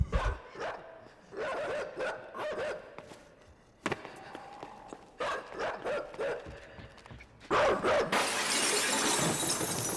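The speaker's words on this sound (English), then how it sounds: "A dog barking is a dog barking." In the video game INSIDE, a dog barks in repeated sharp bursts with short yips, interspersed with shuffling footsteps, ending in a loud crash-like burst of noise.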